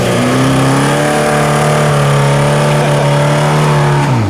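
A local car drives past on a muddy offroad track, its engine loud and close with a steady rising drone that drops away abruptly near the end.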